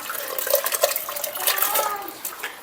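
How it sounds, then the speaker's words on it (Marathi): Hot boiled water is poured from a vessel onto soaked rice for Hyderabadi chicken dum biryani, a close, bubbling, splashing gush that swells and wavers for a couple of seconds. "तो आता आपण पाणी उकळले गरम त्याच्यात टाकू."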